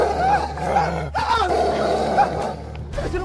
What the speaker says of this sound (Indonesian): Siluman serigala!